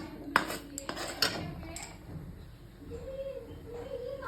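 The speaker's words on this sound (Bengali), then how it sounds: "এর ফ্লেমটা জোরে করে দিয়ে আমি একটু ভালো করে কষিয়ে নেব" Potatoes being stirred and sautéed in a pan over a high flame for Kashmiri alur dom, with a few sharp clinks of a utensil against the pan early on, then a quieter sizzling stretch.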